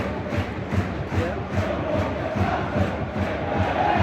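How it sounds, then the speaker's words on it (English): A large football crowd at a West Bromwich Albion vs Millwall match roars and chants in a rhythmic, pulsing swell, loud and continuous with no single voice standing out. "This crowd really getting behind the team."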